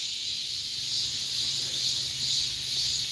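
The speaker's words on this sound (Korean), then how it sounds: "끊임없이 짝을 찾는 소리랍니다. 순매미랍니다." Sun cicada calling for a mate at Heungcheonsa temple, a loud continuous high buzzing drone that swells and pulses slightly, close and alone with no voices.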